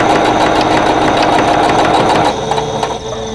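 A sewing machine runs steadily at close range, stitching quilt block pieces together for a stash-buster puzzle block, a continuous mechanical whir that slows and softens near the end.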